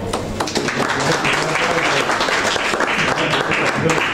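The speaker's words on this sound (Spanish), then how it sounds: "Un aplauso." An audience applauds after a public reading from Leopoldo Alas "Clarín"'s novel La Regenta at a book-night event, a dense, steady burst of clapping that carries loudly through the whole stretch with voices mixed in.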